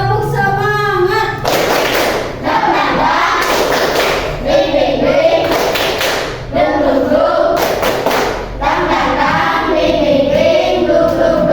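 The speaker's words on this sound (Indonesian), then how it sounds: "Tepuk semangat." A fifth-grade elementary class performs a rhythmic clapping chant, children's voices calling out in unison while sharp claps and thumping beats land in repeated patterned bursts, loud and close.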